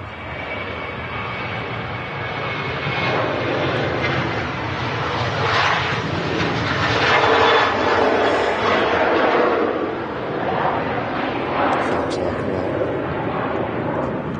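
A SunExpress airliner passes at Manchester Airport as a loud, swelling jet roar that builds and peaks in the middle, then lingers. Voices talk over it.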